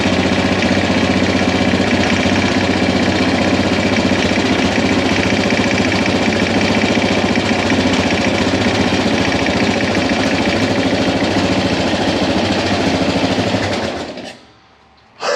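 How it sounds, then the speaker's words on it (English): Yamaha XT600Z Ténéré motorcycle engine running steadily after its first kick start, a loud, close, rattling single-cylinder chug that continues evenly for most of the stretch, then cuts out abruptly near the end. "First kick, and she ran."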